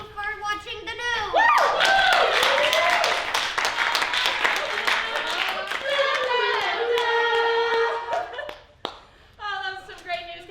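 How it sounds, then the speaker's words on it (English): An audience claps and cheers loudly for several seconds at an improv comedy Christmas show, with whoops and voices mixed into the applause before it fades into scattered talk. "Can I get another round of applause for her?"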